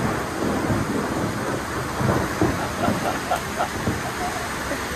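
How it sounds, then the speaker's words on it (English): Low rumbling of thunder rolling under steady rain in South Africa, with a deep, continuous grumble swelling and easing throughout. "I know there's going to be thunder at some point."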